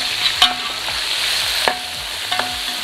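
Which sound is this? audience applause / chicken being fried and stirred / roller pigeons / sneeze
chicken being fried and stirred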